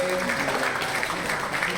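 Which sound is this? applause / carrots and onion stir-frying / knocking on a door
applause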